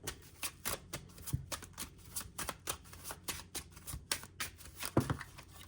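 Tarot cards being shuffled close by, with rapid repeated riffling and snapping bursts that carry on through the whole clip.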